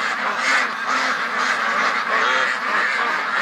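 Penned ducks, eager to be let out, keep up a steady, dense chorus of quacks and honks, loud and close, with no pauses across the few seconds.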